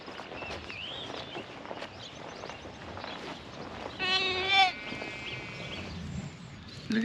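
A newborn lamb gives one clear, loud bleat close by in a lambing shed, set against a background of rustling, shuffling footsteps and low farm noise.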